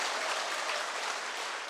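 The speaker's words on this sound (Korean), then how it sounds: "여러분 박수 좀 쳐주세요" Brief burst of audience applause at a seminar, dense, even clapping from a roomful of people lasting under two seconds.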